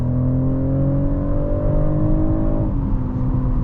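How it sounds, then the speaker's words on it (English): A 2024 BMW X6 40i accelerating at full pedal in Sport Plus, a loud engine note rising steadily in pitch before dropping sharply at a gear change near the end, heard from inside the cabin. "We drop the pedal all the way, and here we go."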